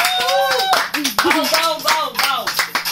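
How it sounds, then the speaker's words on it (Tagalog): Audience clapping along at a casual dance performance, a quick run of sharp hand claps mixed with voices and shouts over a steady background. "Palakpak niyo naman."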